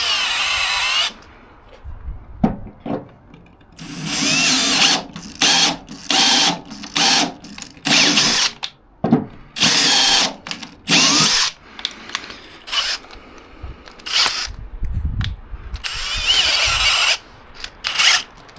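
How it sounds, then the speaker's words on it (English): Power drill on a Scania 143H V8 restoration job, its poorly fitting socket slipping: repeated loud bursts of whirring and grinding ratchet-like rasping, separated by short pauses, close up with no talking. "The socket on this drill is awful. It's slipping way too much."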